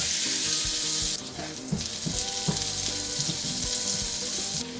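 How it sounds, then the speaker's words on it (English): Shallots fry in vegan butter in a pan, producing a steady bright sizzle with a few soft clinks and stirring sounds underneath and no talk. "Now I'm adding my shallots"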